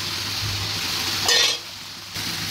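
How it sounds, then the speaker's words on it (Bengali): Fried potatoes are tipped into a frying pan of hot oil, where a background sizzle swells into a brief, bright burst and then settles, with light stirring and clinks of utensils close by. "এখন আলু ভাজাটা দিয়ে দিলাম"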